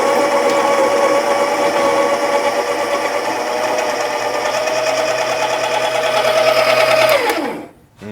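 A Baratza ESP coffee grinder grinding espresso beans, a loud steady motor whir close by that winds down abruptly near the end.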